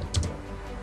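A few quick keystrokes typed on a computer keyboard while editing landing-page text, soft clicks in a brief burst near the start and another at the end, close and quiet with no talking.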